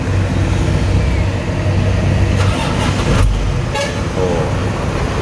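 A 1984 Mitsubishi Fuso truck with air brakes runs loud and close, a continuous rough diesel drone with a few sharp bursts and clatters over it, and faint voices briefly in the background.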